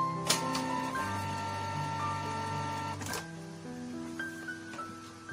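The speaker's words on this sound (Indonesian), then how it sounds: "Kita coba hidupkan lagi. Ya, kita coba hidupkan lagi. Terhidupkan printernya." A Canon G2000 inkjet printer powers on, running a steady mechanical whir with shifting motor tones and clicks that changes pitch a few times as the mechanism cycles, close and alone.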